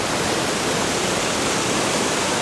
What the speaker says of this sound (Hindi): ये रहा हमारे पीछे दूधसागर वाटरफॉल